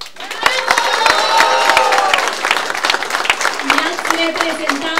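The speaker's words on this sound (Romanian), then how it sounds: "vă aplaudăm astăzi toată Moldova cu mândrie și cu recunoștință" Crowd at a welcome event for Moldova's Olympic team applauding, a dense wash of clapping with scattered cheers and whistles, loud and continuous, while voices and some music carry through it.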